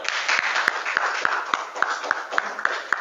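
Students in a classroom give a short round of clapping, with a soft, steady patter of hands and a few sharper individual claps standing out at irregular intervals.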